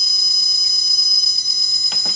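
Rapid high-pitched electronic beeping repeats continuously, thin and steady, from a DJI F450 drone's speed controllers during calibration, ending with a short clatter.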